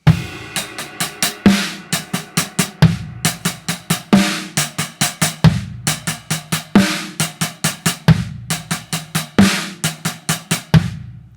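A full drum kit lays down a verse groove for a worship song, a steady rhythmic pattern of kick, snare and hi-hat with recurring crash accents, loud and close with no voices.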